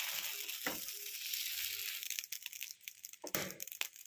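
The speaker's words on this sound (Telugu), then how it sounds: "అలాగే దోశ కూడా వేస్తున్నాను ఫ్రెండ్స్" Dosa batter frying on a hot griddle for a morning breakfast, a steady close sizzle with a few sharp scraping crackles and faint clinks, no talking.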